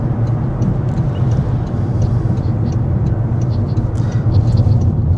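A learner car in Pakenham hums along with a steady, close engine and road rumble while turning left at traffic lights into the right lane, unbroken and with no voices.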